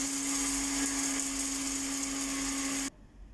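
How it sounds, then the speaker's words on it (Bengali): An electric blender grinds roasted spices for a mango-peel pickle, a steady loud whirring motor with a constant hum that runs for about three seconds and then cuts off abruptly, leaving near silence. "আর ভাজা মশলাটা এখন আমি ব্লেন্ড করে নিব।"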